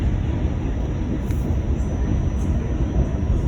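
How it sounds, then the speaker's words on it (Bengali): Train running on a New York City line, heard as a steady, loud low rumble from inside or near the cars, continuous with no clear breaks. "কিছুক্ষণ দূরে দূরে ট্রেন দাঁড়ায়"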